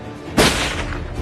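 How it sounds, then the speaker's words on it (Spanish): A single loud gunshot is fired into the air indoors, a sharp crack followed by a rumbling decay. "hace un disparo al aire"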